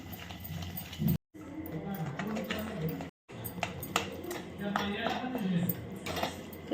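A utensil beats a mixture in a bowl with rapid, rhythmic clinking and tapping, close and steady, broken by two brief silent gaps.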